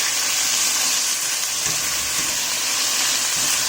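Chopped onions fry in a pan over medium-high heat, a steady, loud hiss that carries on without break and without any talking.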